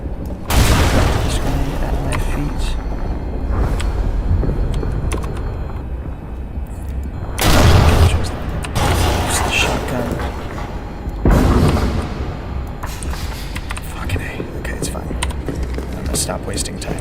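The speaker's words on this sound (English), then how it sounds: "I'm gonna throw this grenade at my feet." A grenade explodes in the horror video game Amnesia: The Bunker, thrown at the player's own feet; loud booming blasts burst out around 7.5 and 11 seconds over continuous rumbling game sound, with a voice talking throughout.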